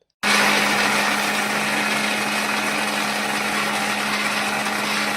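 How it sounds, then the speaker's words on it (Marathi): A mixer grinder blends dhokla batter for a quick spongy dhokla, its motor starting abruptly and then holding one loud, steady, high whirring drone close to the microphone throughout. "आता हे मिश्रण आपण मिक्सरला चांगलं 1 मिनिट फिरवून घेणार आहोत"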